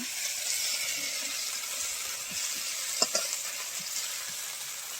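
Ginger, garlic and onion paste sizzling in a hot pan, a steady hiss of frying with a few soft clicks of stirring partway through.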